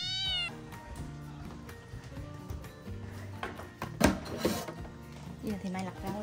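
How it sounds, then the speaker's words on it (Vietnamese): A plump cat meows a few times in a home kitchen, the calls rising clearly over background music and a voice as vegetables are picked and prepared nearby. "Em mèo mập."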